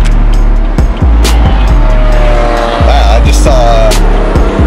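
A BMW idles loud and close with a rough, throbbing exhaust note, punctuated by repeated sharp pops and crackles; a person speaks briefly over it.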